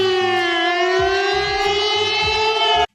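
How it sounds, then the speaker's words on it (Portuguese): A civil defense siren blares loudly and steadily for about three seconds, its wailing tone holding then cutting off abruptly, heard alone with no talk. "tem uma sirene pra quando a internet acabar"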